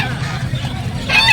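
At a busy open-air market, a guinea fowl gives a loud, close, harsh honking call that rises sharply near the end, over murmuring crowd noise.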